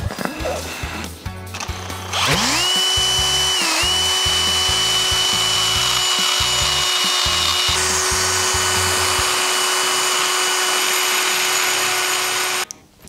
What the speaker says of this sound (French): C'est une meuleuse droite,